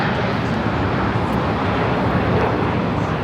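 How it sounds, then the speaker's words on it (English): Loud, steady jet roar from a United Airlines Boeing 787-9 Dreamliner taking off from Los Angeles for Hong Kong, a few seconds of dense engine noise with no voices. "This is United Airlines 801 taking off to Hong Kong on the 787-9 Dreamliner"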